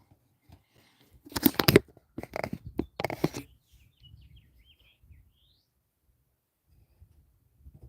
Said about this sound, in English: Those birds are actually talking.